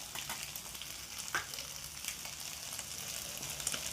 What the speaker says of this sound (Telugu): ఆనియన్స్, ఎగ్ అంతా కలిపి తీసుకున్నాము. ఎగ్ లైట్గా ఫ్రై అయింది కదా,